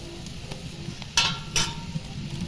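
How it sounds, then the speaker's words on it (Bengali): Ginger-garlic and cumin paste sizzling in hot oil, a steady close frying hiss with a few brighter stirring scrapes and clinks over it and no talking. "এবার আদা রসুনের পেস্টটা দিয়ে দেব জিরে পেস্ট"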